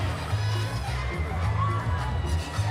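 At a boxing event, a large crowd keeps up a continuous murmur with scattered cheers and whoops, steady and moderately loud, with a commentator talking over it.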